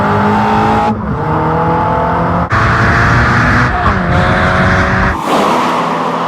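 Mazda MX-5 Miata Club sports car sliding into light oversteer, its engine droning loudly and steadily while tires squeal and scrub through several shifts in pitch, close and continuous throughout.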